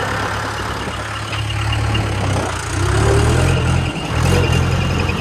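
A Mahindra 575 tractor idles steadily nearby in a field being readied for sugarcane planting, a low continuous engine drone with slight swells in level and no talk.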